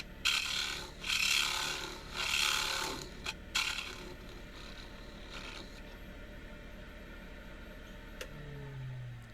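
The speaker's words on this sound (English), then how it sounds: "now start the sanding process" Several rhythmic rasping strokes of hand sanding on an idigbo wood bowl, close and fairly loud, then quieter scraping as the strokes fade out.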